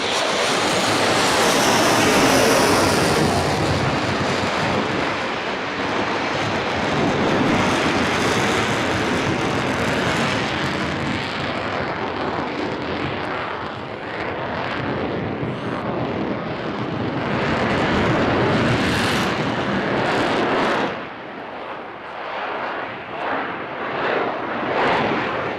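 A display aircraft at an airshow powers up and takes off, a loud sustained engine roar close by that swells, then begins to fade and thin out toward the end.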